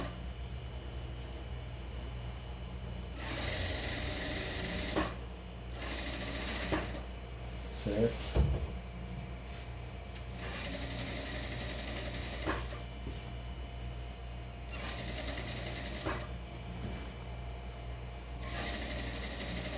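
A sewing machine stitches two layers of fabric to sew a jacket lining, running in several bursts of steady whirring separated by pauses, with quiet handling noises in between.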